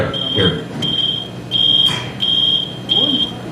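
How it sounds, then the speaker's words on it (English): A smoke alarm built into an ashtray beeps in loud, steady high-pitched bursts, about four repeated tones, with faint background sounds and brief murmurs between them. "There's a smoke alarm built into the ashtray."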